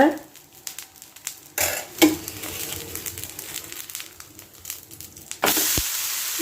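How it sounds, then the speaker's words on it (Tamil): Horse gram adai batter cooks on a flat griddle with oil added, a low crackling sizzle broken by scrapes from a flat spatula and a louder burst of frying near the end. "தோசை சுட்டுக்கோங்க எண்ணெய் விட்டுக்கோங்க"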